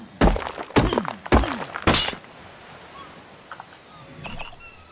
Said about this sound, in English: Oh man, I broke my hatchet.